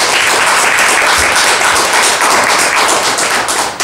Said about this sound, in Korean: 오늘 그 열강을 해주신 강사님께 다시 한번 큰 박수 부탁드리겠습니다